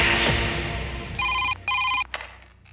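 A telephone rings in two loud, steady electronic bursts with a short gap between them, following a stretch of noisy background.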